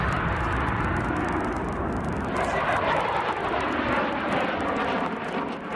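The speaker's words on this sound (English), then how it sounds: "The roar of its twin engines, now a signature sound in this stretch of the Himalayas." A MiG-29 fighter jet's twin engines roar loudly and steadily, a broad, rushing thunder that swells slightly as the aircraft passes over the Himalayas in Ladakh.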